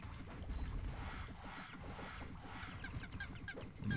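Chickens squawk and cluck repeatedly in an Overdungeon video game, honking fowl calls layered over a busy low rumble of game sounds at moderate loudness.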